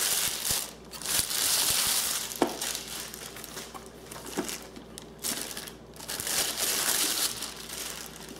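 Packaging on an Aerogarden Sprout hydroponic garden is unwrapped, giving a steady, fairly loud crinkling and crumpling rustle with a few sharper crackles throughout.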